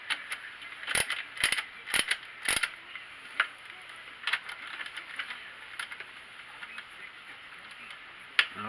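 A Magnavox Micromatic record changer mechanism runs while being serviced, giving off soft clicks, creaks and ratcheting taps. A quick burst of sharp clicks comes early, then fainter scattered ticks follow over a quiet background.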